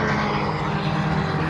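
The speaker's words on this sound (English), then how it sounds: "If you look over there, you can see a few of the planes." Light aircraft droning steadily overhead near Thruxton circuit, a continuous engine hum with no talk, fairly loud throughout the short stretch.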